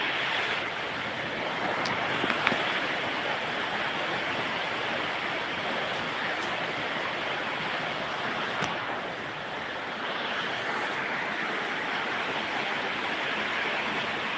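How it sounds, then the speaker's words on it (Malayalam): Heavy rain with light wind, water running along a road, a steady dense roar that stays loud and even throughout with no voices. "നല്ല മഴയാണ് കേട്ടാ"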